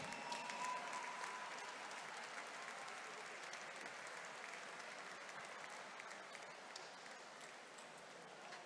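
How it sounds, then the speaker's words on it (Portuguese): A crowd applauds national champion Ana Pinho Rodrigues at a sports podium ceremony in a gymnasium, sustained even clapping that fills the hall, heard from some distance and fading slightly toward the end. "Uma salva de palmas para Ana Pinho Rodrigues."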